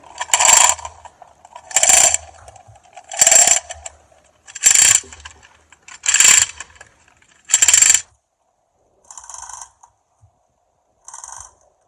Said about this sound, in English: You want to use a block and tackle to pull something.